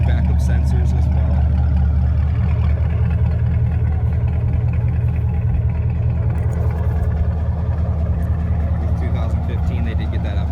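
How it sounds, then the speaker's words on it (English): Exhaust of a 2015 Chevrolet Camaro SS, a loud, continuous deep rumble that stays close and steady throughout. "this exhaust just sounds great"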